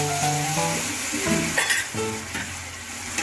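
Yogurt, garlic and salt marinated chicken frying with onions in a kadai, a strong sizzle with metal spatula scrapes and clinks against the pan, close and without talk.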